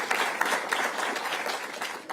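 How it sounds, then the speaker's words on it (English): Audience applause for the University at Albany president at a public event, a moderate, fairly distant patter of many hands clapping steadily. "Let's give our great president of U Albany a round of applause."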